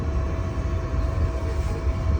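Steady low rumble of an Indonesian passenger train running, heard from inside the carriage, with continuous broadband rolling noise and no clear speech.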